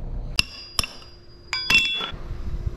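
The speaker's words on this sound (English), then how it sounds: "always tuck in your edges with a little chisel like this and a hammer" Metal hammer tapping a small chisel to tuck in artificial turf edges during a beach-area turf installation: sharp, ringing metallic clinks, two separate taps then a quick cluster of hits, close up with no talking.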